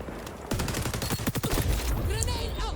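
Rapid gunfire crackles through a firefight in the video game XDefiant, a burst of sharp repeated shots in quick succession followed by scattered echoing reports, with a voice speaking over part of it.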